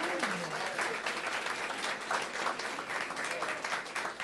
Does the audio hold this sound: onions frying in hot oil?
no